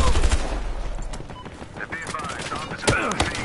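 Sniper rifle fire in the video game Battlefield Hardline, a sharp loud crack near the start followed by more distant shots in a busy battle mix, with a voice talking over it.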